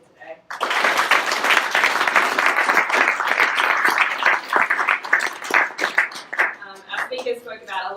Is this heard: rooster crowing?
no